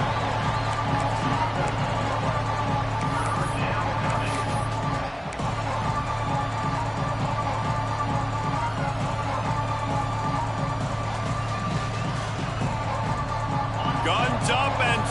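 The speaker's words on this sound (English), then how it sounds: "Guns up, and so is the noise. The crowd electric, trying to help Tech on this 3rd down." A Texas Tech football crowd roars during a third-down play, a continuous loud stadium rumble with a voice talking over it.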